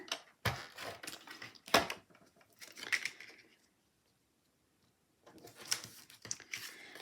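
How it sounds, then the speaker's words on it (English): A tape runner lays adhesive onto decorative paper panels for a garden bag, making short bursts of crisp rasping and crinkling, with a quiet pause partway through before more scratchy strokes. "I'm just going to use my tape runner"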